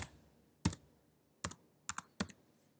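A computer keyboard is typed on in a quiet room, with four short clusters of crisp keystrokes, each one or two quick taps, separated by pauses of about a second.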